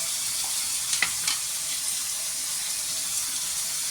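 Chicken frying in a pan with chilli powder and ginger garlic paste for chicken dum biryani, a steady sizzle with a few brief stirring scrapes, close and moderately loud, no talking.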